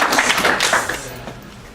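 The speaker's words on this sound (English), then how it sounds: "let's give Troy a big round of applause" A room at a real-estate sales meeting breaks into a burst of applause for a colleague named Troy, dense and close clapping that fades toward the end.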